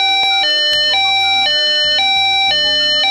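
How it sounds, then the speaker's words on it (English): An emergency shutdown alarm at an industrial facility blares loudly with a repeating two-tone electronic pattern, high and low tones alternating about every half second, heard alone without talk. "But if you hear this type of alarm,"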